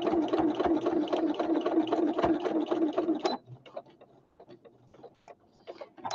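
A sewing machine stitches over an elastic band in a fast, even mechanical whir for about three seconds, then stops and leaves a few faint clicks and handling noises.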